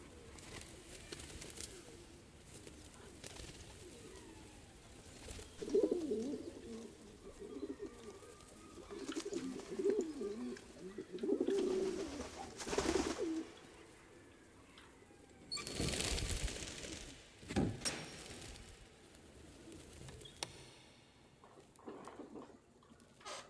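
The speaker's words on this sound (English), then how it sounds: "There were just pigeons around." Pigeons cooing around a city spot, soft repeated low coos in loose phrases with gaps between them, moderately near, over a light ambient background with several brief louder noise bursts.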